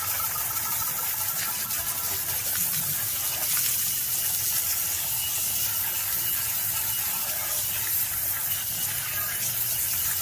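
Steady broadband hiss of a water spray rinsing soap suds off a Suzuki Jimny during a wash, continuous and fairly close with no pauses.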